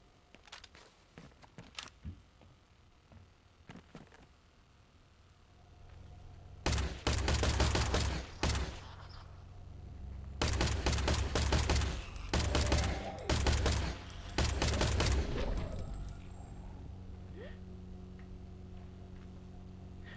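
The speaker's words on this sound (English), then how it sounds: "I love when games make guns feel bulky and big via sound design" Heavy guns fire in the video game Industria: a few isolated shots early on, then several loud bursts of rapid, booming gunfire separated by short pauses, with low rumbling weight under each volley and no talking.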